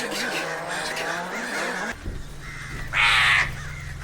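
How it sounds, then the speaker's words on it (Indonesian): A crow caws loudly beside a car, with a harsh burst standing out near the end over engine rumble and dramatic film sound, with talk heard earlier in the scene. "satu burung gagak sempat hinggap di mobil mereka"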